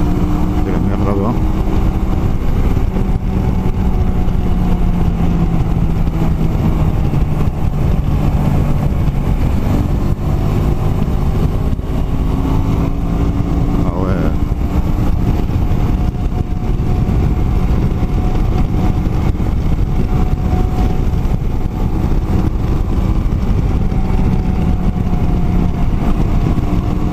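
A Honda Shadow 125 motorcycle engine hums steadily while riding a winding road, a constant loud drone mixed with wind rush for the whole stretch and no clear breaks.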